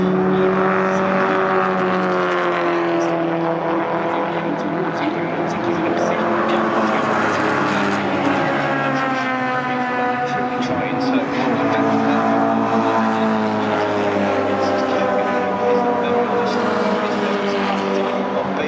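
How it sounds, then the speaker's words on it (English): Race cars lap Silverstone at full throttle in a trackday trophy race, their engine notes rising and falling steadily as they go by. A commentator talks over the engines the whole time. "BMW, so coming on to the Hangar Straight then, Jack Wright is a usual 2 seconds."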